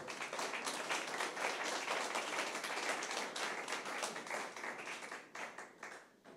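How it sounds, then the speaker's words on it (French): Sustained applause from an audience at an award ceremony, many hands clapping densely and steadily close by, thinning slightly toward the end. "On peut les applaudir encore."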